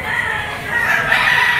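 Chickens at a poultry auction market cluck and crow close by in a short, busy burst of loud, overlapping calls.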